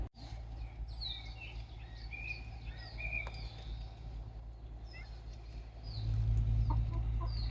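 Chickens clucking and calling in and around an extended outdoor chicken enclosure on a Galician homestead, several short calls scattered across the scene over steady low rumble, growing louder toward the end.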